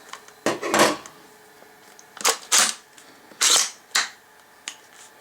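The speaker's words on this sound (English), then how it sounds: "Take out the magazine," Magazine being removed from a Steyr AUG Z A3 rifle in .223 Rem with a short barrel, several sharp close mechanical clicks and clacks of metal and polymer in quick uneven bursts.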